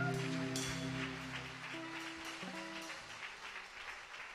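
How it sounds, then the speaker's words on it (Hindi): A church congregation in Udaipur applauds together, a soft, fairly distant wash of clapping under lingering sustained tones from a keyboard or organ. "एक बार तालियों की भेंट चढ़ा के"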